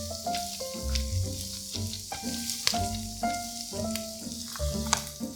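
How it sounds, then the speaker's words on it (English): Fresh-cut garlic sautéed in a Dutch oven for a beef and vegetable soup, crackling and sizzling steadily up close, with spoon stirring and occasional scrapes and knocks against the pot, while voices talk over it. "So we're gonna give that a little saute."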